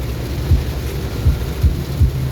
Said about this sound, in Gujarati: પાણી ખાલી આ વરસાદ નથી હો, કરા પણ પડે છે.